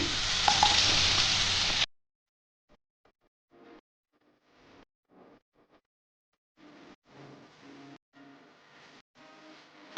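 Ivy gourd (kudri) stirred and fried in a pan, a loud close sizzle for the first two seconds, then near silence broken by scattered faint scrapes and soft frying bursts.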